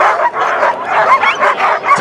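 Sled dogs at the start of a race bark and yip loudly and excitedly from close by, a dense, continuous chorus of overlapping barks.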